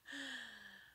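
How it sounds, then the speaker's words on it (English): One quiet human yawn lasts about a second, a breathy, drawn-out voiced sigh that slides downward in pitch. "And I apologize for the yawning."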